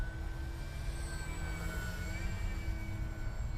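An FMS Edge 540 radio-controlled aerobatic plane passes overhead, its electric motor a steady whining drone with a shifting pitch, moderately loud and without any speech.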